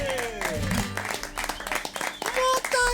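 Audience applause for the singer rises beneath music and a voice, short bursts of clapping mixed with tonal sound in a lively studio setting.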